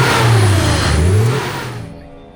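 Engine of a car left abandoned for years, running with a worn clutch fan that is starting to give in; a loud, close, steady drone with low wavering pitch swells, easing off and dying away near the end.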